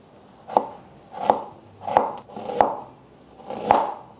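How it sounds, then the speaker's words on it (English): A knife slicing about two ounces of fresh ginger on a cutting board, five distinct firm chops at an even, unhurried pace, close and clear with quiet pauses between strikes. "I have 2 pieces of ginger. It's about 2 ounces, and I'm just going to slice them up."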